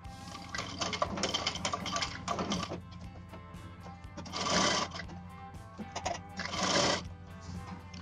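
A sewing machine stitches piping along the edge of a choli, a close, rapid mechanical whir that runs in several bursts, swelling louder twice, with small clicks between runs.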